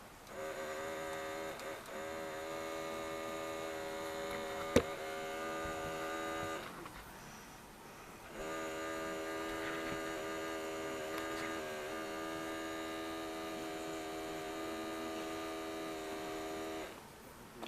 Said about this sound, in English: quick test with the motor, just on the side here, see the difference